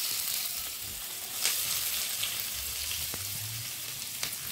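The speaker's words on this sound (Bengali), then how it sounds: "এখানে আমি দিয়ে দিব পেঁয়াজ কুচি" Chopped onion fries in white oil in a pan with a steady, hissing sizzle at moderate volume. A few faint clinks break it up, and nobody speaks.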